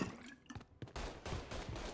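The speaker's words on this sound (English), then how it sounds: "Oh god, they're shooting in here." Gunfire in the Mafia 3 video game, with bursts of rapid shots and sharp cracks in quick succession, loud and close with no voice.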